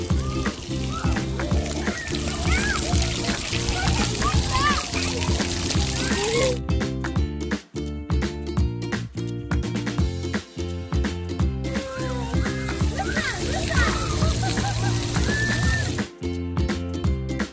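Water from a splash park feature splashes and patters steadily throughout, close and fairly loud, with a voice and other talk over it.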